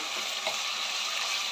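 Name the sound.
vangi bhath masala frying in oil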